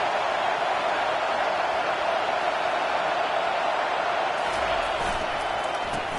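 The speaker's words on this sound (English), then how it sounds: "Listen to this crowd." A football stadium crowd roars in a dense, continuous wash of cheering and noise that stays loud throughout, with no distinct voice standing out.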